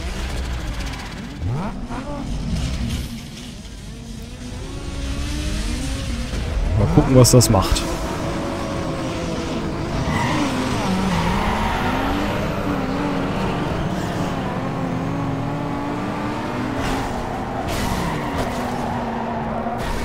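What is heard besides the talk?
Toyota Supra racing in Need for Speed Underground 2 video game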